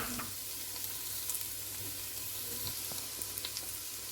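Onions sautéing in butter in a cocotte give a soft, steady sizzle throughout, with small crackles and faint utensil taps, quiet and without talk.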